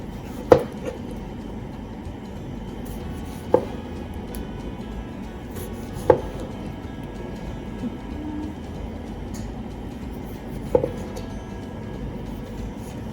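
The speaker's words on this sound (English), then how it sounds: "I'll slice my tomatoes just into thin slices like this" A knife slices tomatoes into thin slices on a board, producing a few sharp isolated knocks spaced a couple of seconds apart over a quiet, low room hum.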